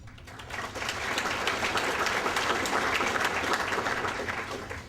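Sustained applause from an audience at a Woodburn Distinguished Service Awards ceremony, a dense steady clapping that swells within the first second, holds, then eases slightly toward the end.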